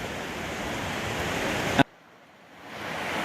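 A river rushes beneath a substantial bridge of bound logs along an Appalachian Trail thru-hike. The steady, close water roar drops out abruptly partway through, then swells back.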